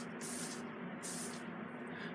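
Hairspray hisses onto clip-in hair extensions in two short close bursts with a brief pause between, faint against a quiet room.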